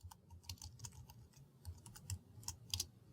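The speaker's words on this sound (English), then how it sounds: "simply type in some text as you normally would" Fingers type text into a text editor on a computer keyboard, making a quiet, irregular patter of soft key clicks over about three seconds.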